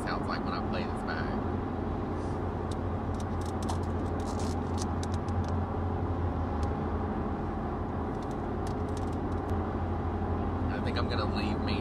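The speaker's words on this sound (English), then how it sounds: "I've gotta do something about my tires. They are so, so loud." Steady, loud road roar from a car's noisy tires on pavement, a dense low rumble holding constant throughout with faint higher hiss above.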